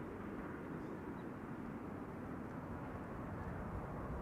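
Steady broadband jet engine roar of an airliner arriving at Amsterdam Schiphol Airport, a continuous, even wash of sound with no break, heard alone without talking.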